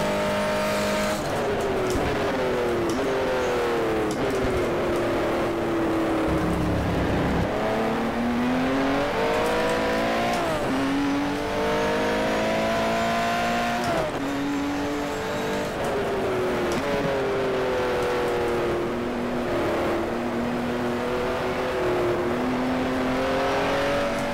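A Porsche 911 Turbo race car in the video game Stock Car Extreme, its engine loudly revving and climbing through gears with repeated rises and dips in pitch, plus brief tire noise, continuous throughout.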